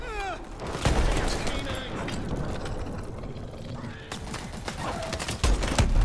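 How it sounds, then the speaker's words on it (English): A new mini rocket launcher fires in Advanced Warfare Zombies on the Descent map, with loud mechanical bursts and clattering shots over game effects, and voices talking throughout. "it's a new gun. It's like a mini rocket launcher"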